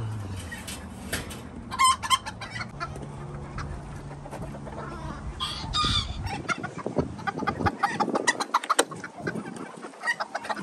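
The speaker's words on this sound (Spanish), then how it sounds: "aquí tenemos el gallo gallina con sus novias" Silver Campine chickens, a rooster with his hens, cluck and chatter in uneven bursts close by, with quieter stretches between calls and no talking.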